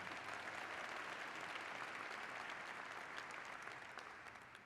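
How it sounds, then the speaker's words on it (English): Steady audience applause fills a room at a county party chairs' brunch, a dense even clapping that holds for several seconds and then begins to taper near the end. "He deserves a round of applause."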